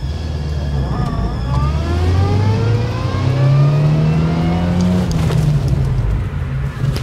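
A car accelerating and turning around, its engine note rising and sweeping through the turn, sits loud and close throughout. Someone talks over the engine.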